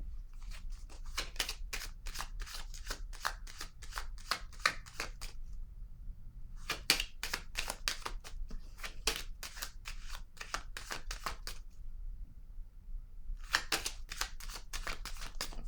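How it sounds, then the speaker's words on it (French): Tarot cards are handled and set down close by in quiet bursts of rapid crisp flicks and shuffling snaps, separated by short silent pauses. "Je vais déposer une autre carte."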